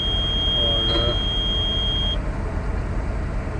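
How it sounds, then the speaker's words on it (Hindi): The computer alarm on a 55-ton mobile crane sounds as one steady, high, continuous tone that stops after about two seconds, over a constant low engine rumble. "ये अलार्म देगा तो ये वाले बटन से इसका अलार्म बंद भी हो जाता है"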